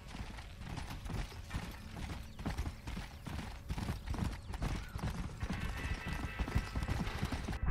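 Horse hooves clop steadily in Red Dead Redemption, a close, continuous trotting rhythm with light creaking of tack, and no voices.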